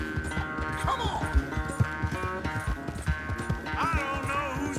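Horse hooves gallop in a rapid, rhythmic clip-clop during a race in Red Dead Redemption 2, with a couple of whinnies and voices calling out over the pounding.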